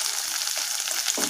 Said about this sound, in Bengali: হালকা আঁচে আমরা পনিরটাকে ভেজে নেব।